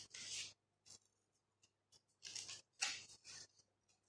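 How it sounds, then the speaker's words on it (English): Scissors cut through an empty cardboard tissue roll with several close, crisp snips and crunches in uneven bursts, each separated by brief silence. "You have to move your scissor"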